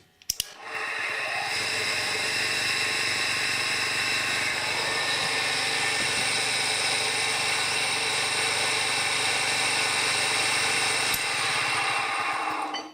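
A UK-1M membrane compressor's motor starts with a brief click, then runs steadily for about twelve seconds, a loud, even mechanical hum with a whining, buzzing drone that holds constant.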